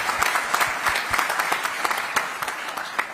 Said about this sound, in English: we wish everyone to clap for the CEO and the committee that organized for this summit